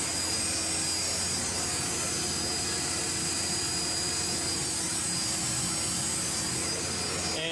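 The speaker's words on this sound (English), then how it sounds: "Right now I'm running handles on the mill." A Tormach shop mill machining knife handles runs with a loud, steady, continuous whine and hum carrying tonal lines, constant throughout at close range.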